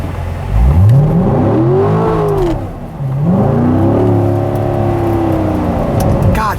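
A Corvette C7 Stingray accelerates hard on a wet, rainy road, its engine swelling loudly through the revs, dropping back at a shift, then pulling up again in a second sustained, roaring climb, close and dominant.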